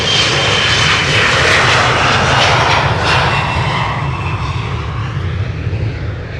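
Jet engines of a Suparna Airlines Boeing 747 freighter roar loud and steady at Amsterdam Schiphol Airport, a broad rushing engine noise sustained throughout and easing slightly toward the end.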